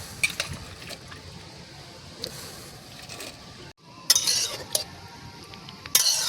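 Raw green mangoes drop from a strainer into water in a pan, giving a few splashy clinks and wet plops against metal. A quiet stretch comes before sharper splashes near the end.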